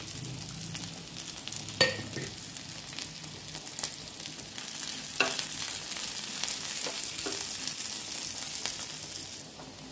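Ginger, garlic, cinnamon and cloves fry in a pan with a steady close sizzle, broken by a few sharp scraping stirs, and no voices.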